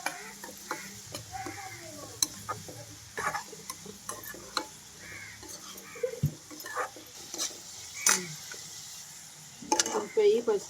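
Onions cooking in a pan with salt and turmeric give a faint, low sizzle under frequent sharp clinks and scrapes of a utensil, with occasional brief voices in the background.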